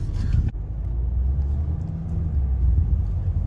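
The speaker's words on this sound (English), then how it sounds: "We were right at the front, so we're one of the first few cars off." A car rolls off a Brittany Ferries ship crossing from France to the UK, a steady low engine and road rumble with a single dull thump near the start.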